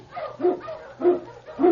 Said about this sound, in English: King, the swiftest, strongest of Eskimo lead dogs